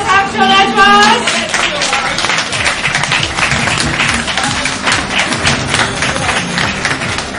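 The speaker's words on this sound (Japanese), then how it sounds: "拍手お願いします" Audience clapping at a Super Street Fighter IV Arcade Edition tournament final in Nagoya, a dense, steady patter of hands close to the microphone, with a raised voice heard briefly at the start.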